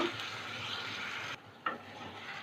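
Prawn curry being stirred in a pan after water is added, a close, continuous scraping and sizzling sound that cuts out briefly, then resumes with a sharp scrape.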